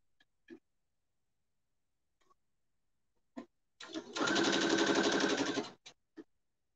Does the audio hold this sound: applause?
no